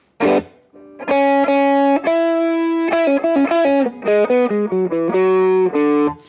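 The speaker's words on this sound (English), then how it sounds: "let's use more of a distortion sound" Distorted electric guitar playing a series of sustained chords and shorter stabs, loud and close, with brief pauses between phrases.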